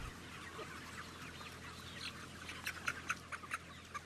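Chickens in a crowded factory farm broiler shed give a few faint, scattered clucks over a low, steady hum of background noise.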